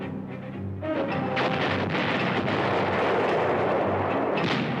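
Field artillery firing in wartime documentary footage: dense, sustained booming and cracking shots rolling continuously at loud level, with no pauses and no voices.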